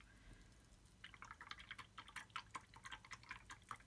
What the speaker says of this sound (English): So you're getting some nice splashy noises off to the side here.